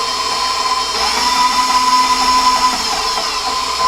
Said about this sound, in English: drop my bowl down and then just let it spin a couple turns so it actually flicks it off